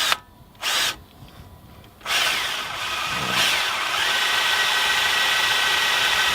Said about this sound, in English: Let me go ahead and drill these out.